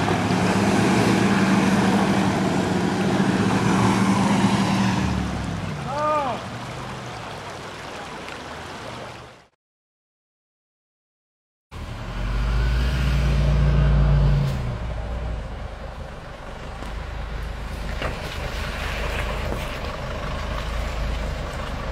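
A Jeep Cherokee/Liberty and a Range Rover roar at full throttle, loud and close, with a pitch shift as revs change, then a brief silent break before the engines resume their strained drone.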